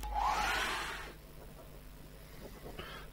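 Hair dryer blowing on a wet acrylic painting, a loud broadband rush for about a second before cutting off, then quiet room tone with a brief faint burst near the end.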